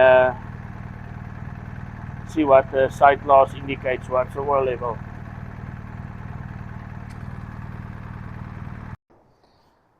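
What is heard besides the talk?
motorcycle engine running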